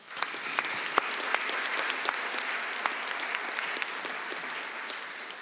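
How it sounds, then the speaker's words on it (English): A banquet room audience at a bar association annual meeting claps steadily in dense, sustained applause, moderately loud throughout and tapering slightly at the end, with no talking. "Please give them a round of applause"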